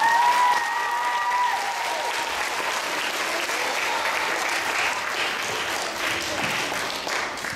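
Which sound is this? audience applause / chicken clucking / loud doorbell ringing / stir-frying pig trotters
audience applause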